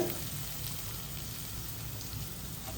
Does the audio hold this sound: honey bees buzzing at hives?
no